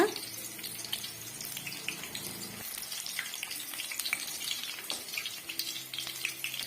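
Soya chunks coated in ragi flour fry in hot oil, a busy crackling sizzle with bubbling and occasional stirring clinks, fairly close and steady throughout.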